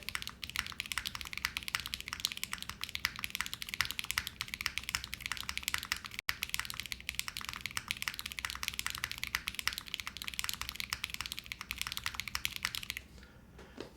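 Rapid, continuous typing on a keyboard with KTT Roses switches and Mode keycaps, a close, even patter of muted clacks that runs almost without pause and stops near the end.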